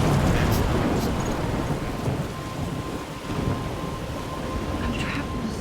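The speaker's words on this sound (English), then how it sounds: "I'm trapped in a storm?" Steady rain pours with low rolling thunder through a thunderstorm in the video game Life is Strange, a dense continuous wash that fades slightly midway, with no speech.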